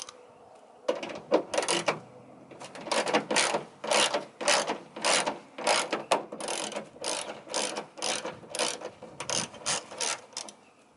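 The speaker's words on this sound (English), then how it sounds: "I use 10 millimeter to take this out" A 10 mm ratchet wrench clicks rapidly in repeated bursts while loosening screws that hold OEM mud flaps on a Toyota Tacoma, close up and fairly loud with short pauses between runs.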